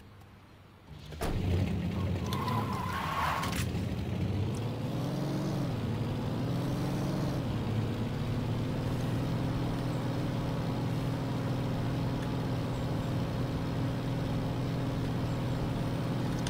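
A classic American car driving in Saints Row 2, its engine a steady, loud drone with shifting pitch that starts abruptly and runs unbroken throughout.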